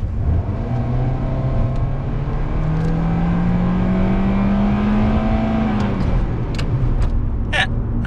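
A 2020 Toyota Corolla XEi accelerates, its engine a steady, fairly loud drone whose tone climbs smoothly for several seconds before easing off.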